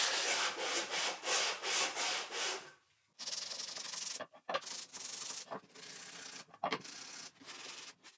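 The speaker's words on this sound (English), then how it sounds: "I made a simple sanding board to get rid of any marks left by the bandsaw blade" Bandsawn wood is rubbed back and forth across a homemade sanding board in steady rasping strokes, close up, followed by slower, more broken scraping passes.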